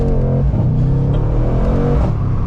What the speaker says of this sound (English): Can I stab the gas?